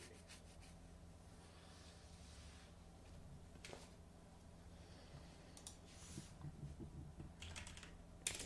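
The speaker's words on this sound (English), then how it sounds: "I like that you just type a little and hit enter and type a little more" Someone types on a computer keyboard in soft, quiet bursts of rapid key clicks separated by short pauses, with low background hiss throughout.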